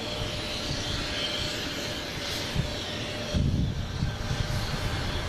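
A Boeing 737-800 jet departing Boston Logan for Dallas gives a steady, moderately loud engine roar, with a few brief low thumps and rumbles partway through and no talk.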